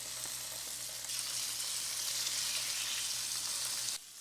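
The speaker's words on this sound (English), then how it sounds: "once your pan is heated up, we're gonna go ahead and add in your chicken. You should hear it sizzle." Chicken sizzles in hot avocado oil in a pan, a steady, bright crackling hiss that swells slightly partway through and then drops off abruptly near the end.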